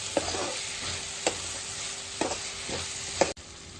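Garlic cloves and cashews fry in a pan for a paneer masala curry while a spoon stirs them, giving a steady sizzle with four distinct scraping strokes.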